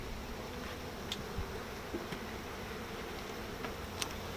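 Bees hum softly around an opened beehive during beekeeping work, a faint continuous drone with a few brief insect buzzes passing nearby.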